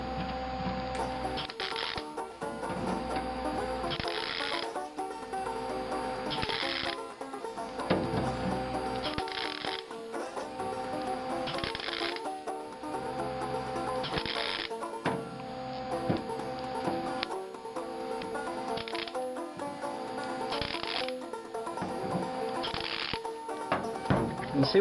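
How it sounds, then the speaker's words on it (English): A MIG welder laying short bursts of weld, a harsh crackling buzz that starts and stops in a steady series of brief pulses, each a second or two long, separated by short gaps of quiet. "I'm just getting a little short burst of weld"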